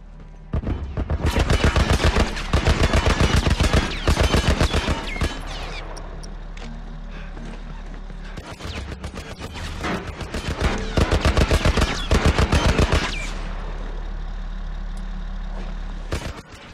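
A tank's .50 cal machine gun in The Last of Us fires long, loud, rapid bursts separated by short pauses, over a constant low rumble of an idling engine.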